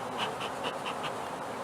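Honeybees from a swarm catch, gently smoked over their comb, hum in a dense, steady buzz close by with no voices.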